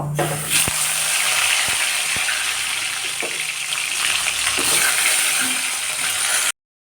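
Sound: taro (kochu) pieces frying and being stirred in oil

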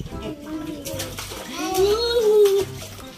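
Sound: child splashing water in a swimming pool

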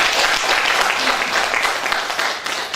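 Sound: applause of congratulation

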